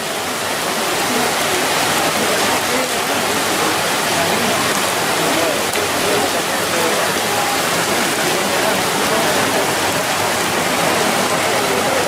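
Heavy rain pours steadily in a loud, dense wash of noise throughout, during the patron saint festival of the Virgen de las Nieves in Yurimaguas, 2014.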